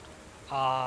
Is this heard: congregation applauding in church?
no